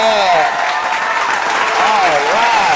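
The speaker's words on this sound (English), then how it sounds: "Should I give you all a little applause for doing a great job?" Applause sound effect inserted into a podcast, a steady wash of crowd clapping with cheering voices and whistles running throughout, loud and close.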